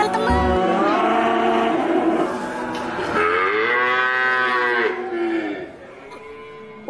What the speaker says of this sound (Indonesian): ada sapi perah